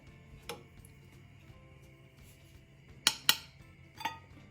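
A spoon stirs potato curry with sesame powder in a pan, giving a few sharp metallic clinks and scrapes, sparse and close, with a double knock near the end and quiet between.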